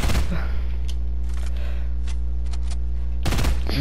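Rapid bursts of gunfire from a creative-mode battle video game, a few sharp shots scattered over a steady electronic hum, with louder clusters near the start and end.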